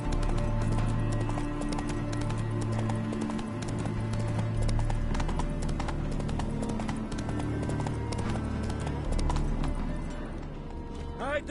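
Rhythmic clip-clop of a heavily laden horse's hooves in a video game, steady and prominent against a dense backdrop of game music and ambience, with faint speech-like sounds mixed in.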